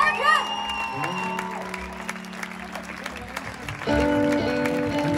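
Concert audience applauding outdoors at a live show at Sauerlandpark, a broad wash of clapping with some cheering, heard under a speaker's voice and lingering music tones.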